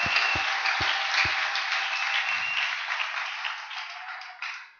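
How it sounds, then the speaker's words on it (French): A church congregation applauds during a sermon with a steady, dense wash of clapping that stays loud throughout. A few low thumps sound at the start, and the applause thins slightly just before the end. "Applaudissons fort le Seigneur."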